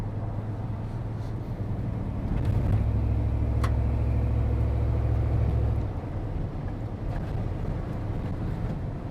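Low, steady engine rumble from an old green firewood delivery truck with worn, rackety mufflers, droning continuously with a heavier swell midway and some wind buffeting on the microphone.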